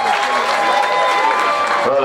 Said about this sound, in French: mesdames et messieurs, on applaudit bien fort.